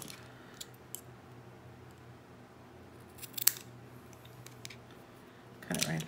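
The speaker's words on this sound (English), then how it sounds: "Cut it right there, and I'm gonna cut this one right here." Scissors snip cotton wick for an RDA vape build, giving a few sharp, close cuts spaced out over quiet handling noise, with a louder snip near the end.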